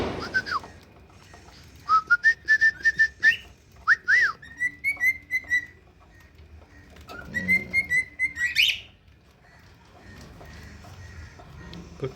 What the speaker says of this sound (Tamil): இங்கே பார்த்தீங்கன்னா நம்மளுடைய டேர்ம்டு பேர்ட்ஸோடைய ஒரு படையே கிடக்கு